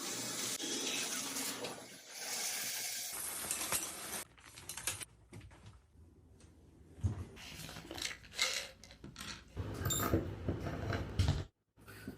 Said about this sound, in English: Let's get the shower going here.